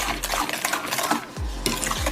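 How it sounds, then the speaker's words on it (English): A spoon stirring thick chocolate brownie batter in a bowl, close and fairly loud, with continuous scraping and soft wet churning plus a few low thumps and no speech. "I'm gonna keep mixing and mixing."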